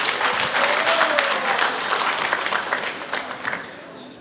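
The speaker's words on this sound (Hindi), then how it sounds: "एक जोरदार तालियों से रानी जी का स्वागत करते हैं।" Audience at a community kirtan night claps loudly to welcome a performer, dense sustained applause that gradually thins and becomes more scattered toward the end, with faint crowd murmur beneath.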